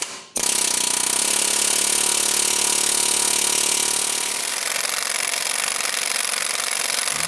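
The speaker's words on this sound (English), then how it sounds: "I want to try air hammering the other side to get it to turn." Pneumatic air hammer pounding on a stuck part during a Honda TRX400EX ATV teardown: a loud, continuous rapid rattling hammering that starts abruptly and runs steadily for several seconds.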